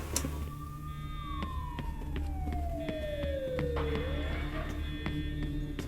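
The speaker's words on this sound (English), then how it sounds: "So why do I hear sirens coming from the observatory?" An emergency siren wails from the observatory in the Life Is Strange game, a long descending tone sweeping downward over steady background hum, fairly distant and moderately loud, with faint clicks scattered throughout.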